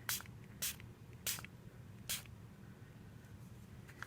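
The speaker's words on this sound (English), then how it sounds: "let's give this a light spritz and allow it to move a little bit." A spray bottle spritzes water over a faux watercolor wreath card background: four short, crisp hissing bursts spaced irregularly, then a fifth right at the end, each one quiet and close against a faint low room hum.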